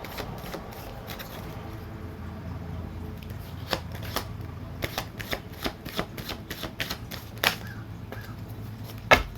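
A deck of cards is shuffled for a card reading, a steady riffling with repeated crisp snaps that sharpen toward the end, heard fairly close under a low background hum.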